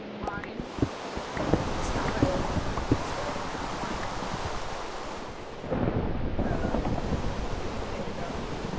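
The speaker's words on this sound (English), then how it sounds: "Turn down the rain just a little bit so you guys can still hear me." Steady downpour of rain with rolling thunder and gusty wind in a tornado survival video game, a dense continuous roar that briefly dips before surging back, with a voice talking over the storm.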